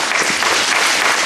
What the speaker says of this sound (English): Let's start it off with a round of applause for everybody.